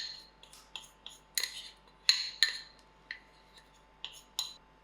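Utensil scraping and clinking in a mixing bowl while creamed butter, sugar and maizena are stirred together, a sequence of irregular light taps and scrapes of moderate loudness, close by with no talk.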